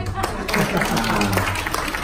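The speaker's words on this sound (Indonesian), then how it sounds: "Coba tepuk tangan dengan rumah sakit dulu." An audience at a hospital business seminar breaks into steady, even applause that continues throughout, with a voice speaking over the clapping.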